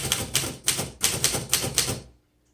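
Typing keys and backspace being tested on a 1934 Royal Model O manual typewriter, with about eight sharp, rhythmic mechanical clacks in quick succession, close and loud, then silence.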